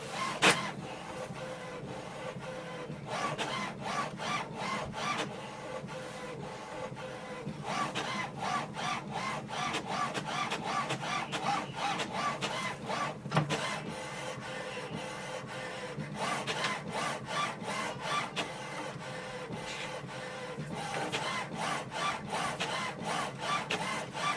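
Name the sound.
printer printing alignment page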